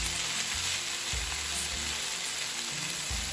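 A cabbage and carrot vegan curry cooks in a pan over medium-high heat, a steady close sizzle and fry running throughout at an even level, with a low periodic bubbling underneath and no voices.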